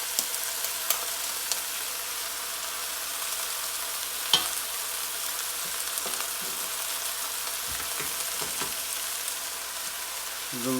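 Onions and garlic frying in a pan, an even, close hiss of sizzling oil with scattered pops and occasional soft knocks of stirring, continuous throughout and without speech.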